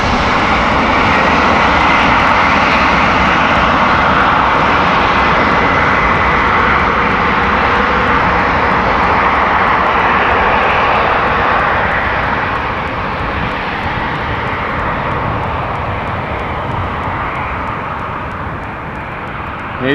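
An airliner taxis at Amsterdam Schiphol Airport, its engines a loud, broad, sustained roar heard from nearby. The roar holds steady, then eases slightly toward the end, with no voices.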